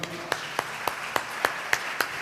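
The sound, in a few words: church congregation applauding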